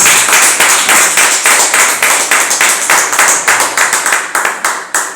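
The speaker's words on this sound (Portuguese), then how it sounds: "Vamos dar uma grande salva de palmas" Church congregation clapping in rhythm at a farewell service for a pastor, loud, close, evenly spaced rhythmic claps repeating steadily throughout.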